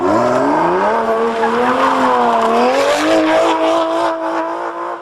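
Race car engines rev and drive in a sustained, loud roar, with pitch rising and falling as cars accelerate. Tires squeal at points, and the roar fills the whole stretch without a break.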